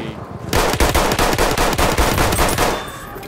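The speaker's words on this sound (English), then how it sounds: "God, there's bullets all fucking around me." Rapid automatic gunfire in the Battlefield 1 beta, a loud, dense burst of shots that starts abruptly and keeps rattling for nearly three seconds before cutting off.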